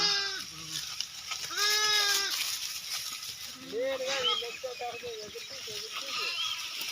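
Several sheep bleat one after another, wavering calls close by, with some voices talking in the background.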